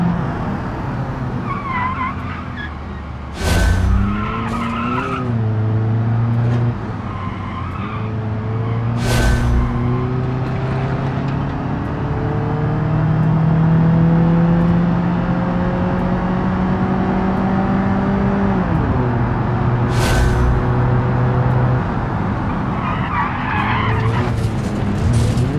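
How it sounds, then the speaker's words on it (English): A car in the driving game BeamNG races hard, its engine revving up and down through gear changes while the tyres squeal and skid repeatedly, loud and close, with no voices. "Trying to listen to the car and make sure I am driving to my quickest ability through here."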